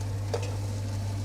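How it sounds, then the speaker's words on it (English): Thai braised pork leg sears in a hot pan, a soft steady sizzle with a faint tick or stir near the start over a low kitchen hum, quiet and brief. "Let's quickly sear all of these."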